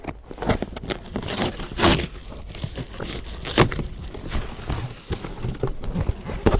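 The packaging of a Trobolo DIY compost toilet kit is torn open up close: loud, irregular bursts of ripping and crinkling paper and plastic, one after another, with no talk.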